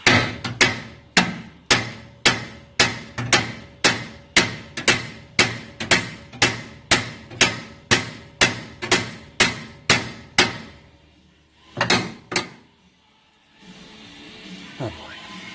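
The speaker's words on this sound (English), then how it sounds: "Okay, so the solution was a bigger hammer." A hammer pounds on 1971 Mustang suspension parts during a teardown: about seventeen loud, evenly spaced metallic blows in quick rhythm, a short pause, two more hits, then quieter shuffling.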